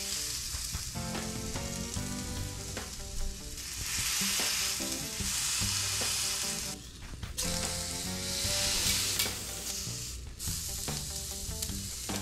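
Ahi tuna sears in a smoking-hot pan with a loud, continuous close sizzle that swells and eases in waves, briefly dipping once midway, with no talking.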